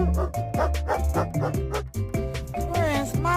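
A frightened dog at the vet yips, barks and whimpers in quick, close, high-pitched bursts, with rising whiny cries toward the end.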